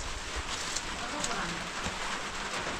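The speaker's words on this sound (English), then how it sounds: "it's raining here and there." Steady outdoor rain on a muddy cooking spot, a continuous broadband hiss of drops falling throughout, moderately loud and close, with faint voices mixed in.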